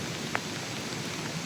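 Rain falls steadily over rice fields during a storm, a constant even hiss with no distinct drops, close and moderately loud with no voices.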